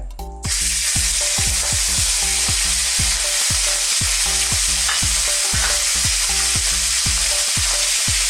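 Beef strips for Bicol Express sizzle loudly in hot oil, a steady hiss under repeated rhythmic scraping and stirring knocks.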